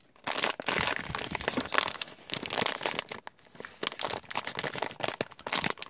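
Plastic wrapping on a boxed McDonald's One Piece limited-edition figure crinkles close up, loud irregular bursts of crackling and rustling with short pauses between handlings.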